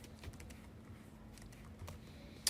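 Quiet computer-keyboard typing of a git clone command on a Kali Linux machine, with a brief run of soft, close clicks and a sharper final keystroke.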